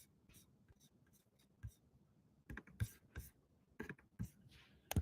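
Quiet clicks of computer keyboard typing in a few short bursts, close and soft, with faint background noise.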